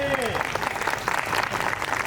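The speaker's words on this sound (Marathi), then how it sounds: "आज तुम्हाला इतकं वेळ असं टाळ्या वाजवायला लावलं" An audience at a wedding sangeet claps in a dense, continuous burst of applause, with a voice speaking over the clapping.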